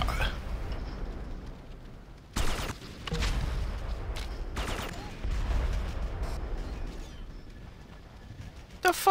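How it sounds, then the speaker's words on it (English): Gunfire in the video game Red Faction 2: loud bursts of shots at about 2.4, 3, 4.6 and 5 seconds, separated by a rumbling, noisy battle background, with another sharp report at the very end. "Let the shooting begin."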